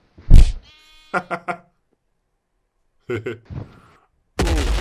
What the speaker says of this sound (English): Oh, hello, sheeps.